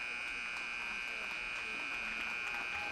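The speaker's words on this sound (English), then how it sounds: "And that's the buzzer." A period-end buzzer at a varsity girls' ice hockey game in an arena, one steady sustained electronic tone lasting the whole moment over faint crowd murmur.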